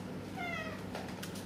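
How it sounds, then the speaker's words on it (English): A domestic cat gives a single drawn-out meow in a kitchen, fairly clear over a steady low background hum. "If you can hear the meowing,"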